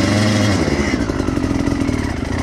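A dirt bike engine on a singletrack trail with a broken throttle, revving loud and close in a rough, buzzing drone that shifts pitch slightly as the rider works the throttle.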